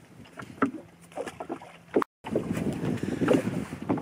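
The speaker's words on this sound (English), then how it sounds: "The wind's come up, and I think it's just going to get a bit choppier from now on in." Wind gusting over open sea off the Fylde Coast during a spring tope fishing trip from a small boat, a steady rushing bluster with water slapping against the hull, broken by a brief dropout midway.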